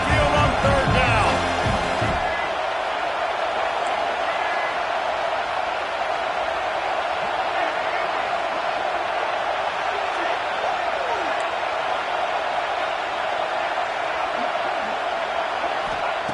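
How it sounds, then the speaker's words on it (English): Alabama Crimson Tide fans at the stadium send up a sustained, dense roar on third down, a broad wall of crowd noise from start to finish, with a few sharp thuds in the opening seconds. "The Tide crowd, roaring noise down on the Saban field on 3rd down"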